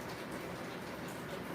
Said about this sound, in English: I hope you hear the rain in the background.